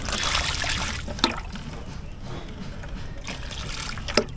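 Water from a hose splashes and trickles across a backyard farm in Kingstown, a steady close wash of spray broken by a couple of sharp splatters.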